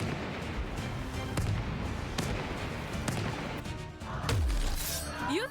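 Pirate ship cannons firing in the video game Corsair Cove, with a string of sharp booming blasts and crashing impacts over a noisy, chaotic background.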